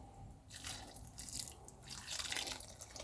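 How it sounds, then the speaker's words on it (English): Warm water is poured gently onto the soil of an overwintered potted pepper plant in a garage, giving quiet trickling and soft splashing drips that swell and fade in short bursts. "We got some warm water. Just going to put on here."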